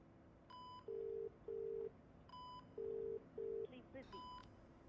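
A phone call sounds through a handset: dialing beeps and tones, a few repeated ringback pulses, then a clipped cutoff tone as the call is rejected, all faint and electronic.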